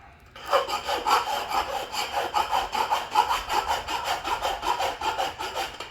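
A hand file rasps across a metal part in steady, even back-and-forth strokes, close and moderately loud, about a dozen rhythmic passes with no talking.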